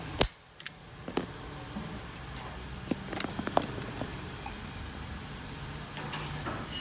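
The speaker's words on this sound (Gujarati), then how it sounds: "કમ્પ્લીટ મશીન મારી રહ્યા છે સ્ટેપલરથી." A stapler fastens a seat cover in a garage, giving a few sharp, dry clacks at irregular intervals over a low, steady background hum, fairly close but not loud.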